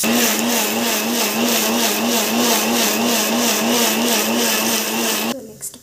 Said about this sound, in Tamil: தேங்காய் அரைச்சி ஊற்றிக்கலாம்.